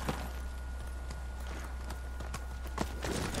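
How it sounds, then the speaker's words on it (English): Quiet hoofbeats clatter in an uneven run, a series of sharp thuds over a low hum, fairly faint and somewhat distant, from a riderless horse in the video game Ghost of Tsushima. "His horse is just running from him."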